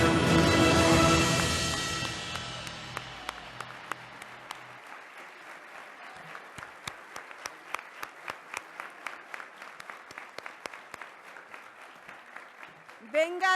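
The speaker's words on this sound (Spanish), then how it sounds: "Venga de nuevo ese aplauso" Audience applause at a national civic merit award ceremony in Mexico, a dense burst of clapping that fades over a few seconds, leaving a scattering of sparse individual claps.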